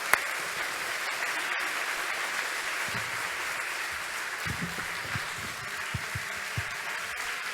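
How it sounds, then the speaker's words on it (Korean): A church congregation at a Korean Methodist revival meeting in the Gangneung North District applauds warmly, a dense, steady wash of many hands clapping together that holds at an even level throughout, with a few sharper claps standing out near the end. "원래 강릉 북지방 이렇게 박수를 잘 치시나 봐요."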